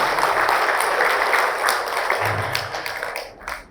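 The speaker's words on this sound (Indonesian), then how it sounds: "Tepuk tangan untuk Kepolisian Republik Indonesia." An audience at a Maulid religious gathering for the police applauds loudly and steadily for several seconds, the clapping thinning out toward the end.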